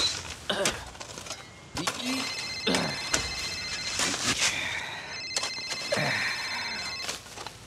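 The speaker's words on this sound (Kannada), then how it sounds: "ಗೋಪಾಲ ಫೋನ್ ಎತ್ತೋ, ಅರ್ಜೆಂಟ್ ಇದೆ." Indoors, a telephone rings in repeated electronic bursts, fairly close and clear, mixed with clanks and voices.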